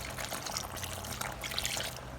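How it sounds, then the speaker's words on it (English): Water poured into a pot to boil rice for homemade dog food, a steady broadband pouring rush lasting the whole stretch at moderate level, with a low hum underneath and no talking. "I'm going to add water to allow the rice boil."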